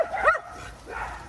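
A small dog barks during a walk, giving a couple of short, close yips and a whimpering bark, no talking.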